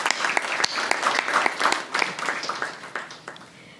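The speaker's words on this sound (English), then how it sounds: "A big round of applause for Ms." Brief round of audience applause at an evening event, a burst of many hands clapping that stays lively and then fades toward the end.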